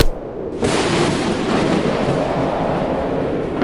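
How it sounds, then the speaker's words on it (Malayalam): Loud Vishu firecrackers go off nearby, one sharp burst followed by a dense, sustained crackling roar that fills the rest of the moment with no voices. "എന്തിനാ ആളുകൾ പടക്കം പൊട്ടിച്ചേ?"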